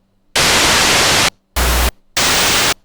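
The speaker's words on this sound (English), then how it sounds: "That's what we want. Just some basic noise." Basic white noise sample auditioned in music production software, three loud, flat bursts of static hiss separated by short silences, the middle burst shorter than the others.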